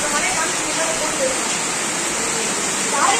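Heavy rain pours down in Madurai as a dense, continuous hiss, loud and steady throughout.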